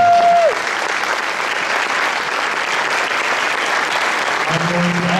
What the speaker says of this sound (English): please rise so we can recognize him with a round of applause